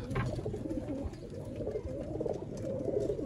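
Teddy pigeons coo in soft, low, continuous murmurs, several birds close by in a busy loft with light rustling and no voices.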